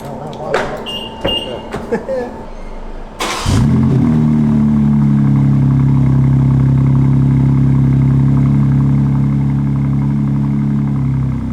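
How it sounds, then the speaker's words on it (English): An Audi RS4 fires up from cold: a few clicks and clunks, then a sharp starter catch and burst of revs settling into a loud, steady high idle that drones on close by. "Let's do a cold start for Tway."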